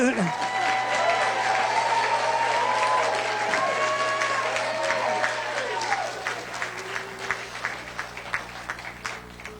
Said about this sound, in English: Go ahead, you can clap for them.